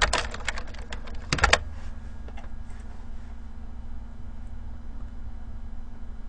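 Fast keystrokes clatter on a computer keyboard at close range, with a dense flurry of typing in the first second and a half, then sparse, quieter taps against a steady low hum.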